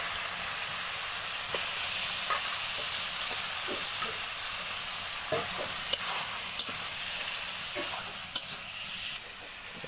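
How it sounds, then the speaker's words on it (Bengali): Chicken pieces added to a frying spice paste in a home kitchen sizzle loudly and steadily, with scattered scraping and clinking from stirring throughout and no talking. "তো এখন চিকেনটা দিয়ে দিচ্ছি।"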